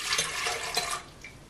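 Warm water being poured for bread yeast, a close, steady splashing pour with a few bubbly surges, lasting about a second before it tapers off, with no voices.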